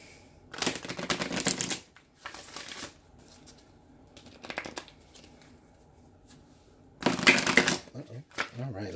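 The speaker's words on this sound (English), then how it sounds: "let's get one more good shuffle" Tarot cards are shuffled in several quick riffling bursts, close by, separated by short pauses with faint background sound.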